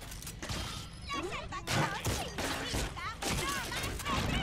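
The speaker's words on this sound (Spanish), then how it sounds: "Me están recagando a tiros." Enemy gunfire in the PC video game BioShock 2, with repeated sharp shots and metallic crashes in busy, chaotic bursts mixed with game effects and a faint voice.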